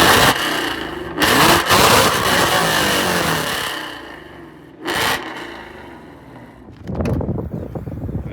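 A Ford Mustang fitted with full headers, an H-pipe and a stock muffler, a loud engine firing up and revving in bursts with wind buffeting the microphone, settling into a rough idle before blipping again.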